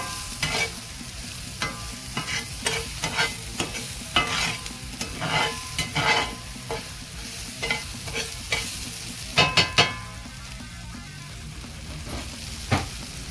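Red onion sizzling in a hot pan, with a steady frying hiss broken by scattered stirring scrapes and a few louder clacks of the spoon; no one talks.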